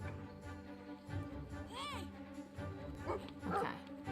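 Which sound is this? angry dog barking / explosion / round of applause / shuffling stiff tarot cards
angry dog barking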